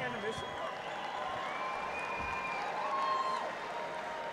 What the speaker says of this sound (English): let's get a round of applause together for both of the fighters in this cage